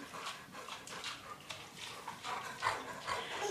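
Puppies playing, with soft yips, whimpers and panting in quick scuffling bursts, close by and fairly quiet.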